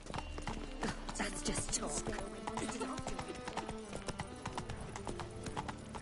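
Horse hooves clip-clop steadily at a walk in The Witcher 3 video game, a continuous rhythmic clatter over game ambience and music, with someone talking over it.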